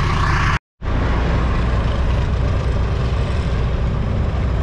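A skid steer loader drives closer across ice on a cold day of snow plowing, its diesel engine a steady loud low rumble that runs unbroken apart from a brief dropout near the start.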